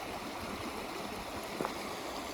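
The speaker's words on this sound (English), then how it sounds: "Let's take a look at this little creek." Small creek flowing in a snowy state park, a steady soft broadband rush and trickle of water throughout, fairly distant and even, with one faint brief knock partway through and no talking.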